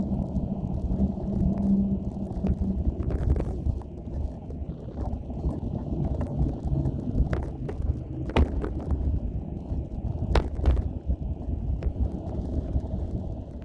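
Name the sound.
strong gusty wind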